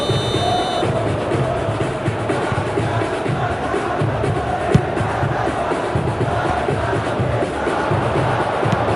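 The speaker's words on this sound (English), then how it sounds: "the crowd are reacting to that now" A large football stadium crowd at an international match between Indonesia and Sweden roars and cheers in a steady, loud, continuous wash of noise, with one brief sharp accent near the middle.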